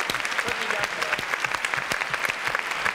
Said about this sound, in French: Applaudissements, mesdames, messieurs, c'est magnifique.